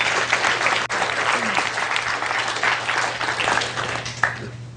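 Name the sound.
audience applause for Andrew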